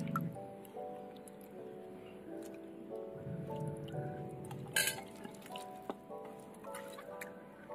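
Dried mango and prawn sour curry is mashed and mixed by hand, giving quiet, wet squishing and squelching with a faint tonal hum in the background.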